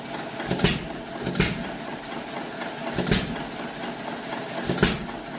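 A vintage John Deere Model E hit-and-miss engine coasts on its flywheel between sharp firing bursts, which come roughly every one to two seconds over a steady mechanical clatter.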